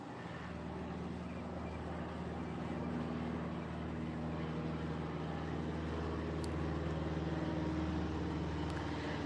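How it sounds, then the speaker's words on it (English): A plane passes overhead as a steady low, distant engine drone that hangs evenly throughout, with faint outdoor ambience. "Sounds like a plane overhead, right?"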